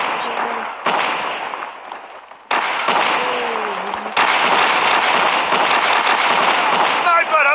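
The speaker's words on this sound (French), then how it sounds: "ça tire plusieurs balles." Gunfire in Call of Duty Mobile, with several shots fired in rapid bursts and a loud, dense crackle of overlapping game effects that runs through most of the stretch.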